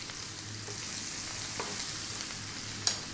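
Onion, garlic and ginger fry in hot oil in a wok, giving a steady close broadband sizzle with occasional soft clicks of stirring and one sharp metallic tap near the end.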